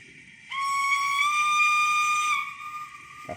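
A single sustained steam whistle blast from a Rapido Trains Lion model locomotive's sound decoder, a bright chord-like tone lasting about two seconds, starting abruptly and trailing off, over a faint background hiss.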